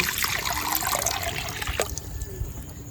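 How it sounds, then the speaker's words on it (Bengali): Water splashes steadily as it pours into a wok for boiling elephant foot yam, a close, hissing trickle that cuts off partway, leaving faint kitchen noise. "এখন আমি কড়াটা বসিয়ে দিচ্ছি জলটা দিয়ে দিচ্ছি ওলটা আমি সিদ্ধ করে নেব"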